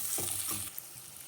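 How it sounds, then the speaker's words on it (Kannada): Sliced onions frying in a pan for a bottle gourd palya, a brief steady hiss with a couple of stirring scrapes, close and alone without talk. "ನೆಕ್ಸ್ಟ್ 2 ಈರುಳ್ಳಿನ ಸ್ಲೈಸಾಗಿ ಕಟ್ ಮಾಡ್ಕೊಂಡು ಹಾಕ್ತಾ ಇದ್ದೀನಿ. ಇದನ್ನ ಒಂದು 2 ನಿಮಿಷ ಕಲರ್ ಚೇಂಜ್ ಆಗೋವರೆಗೂ ಫ್ರೈ ಮಾಡ್ಕೊಳ್ಳೋಣ."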